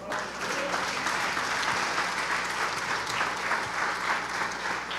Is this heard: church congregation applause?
yes